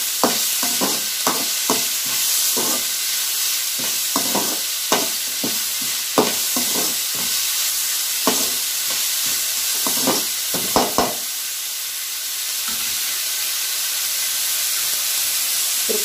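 Steady sizzling of onions sautéing in a pan for tomato thokku, punctuated by repeated scraping and stirring clicks, close and continuous.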